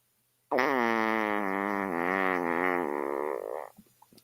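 A voice imitates a long, buzzing fart with the mouth, a single sustained rasp lasting about three seconds, close and loud.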